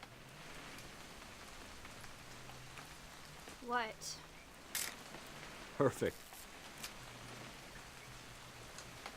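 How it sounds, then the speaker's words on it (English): Rain falls in What Remains of Edith Finch as a soft, steady patter on a surface all the way through, while voices speak briefly over it and a few short sounds break in. "It's gonna rain the whole weekend, isn't it?"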